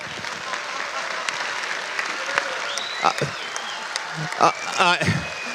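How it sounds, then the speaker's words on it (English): Steady applause from a conference audience at a CPAC 2023 political gathering, loud and continuous throughout, with a voice briefly rising over the clapping near the end. "You can clap."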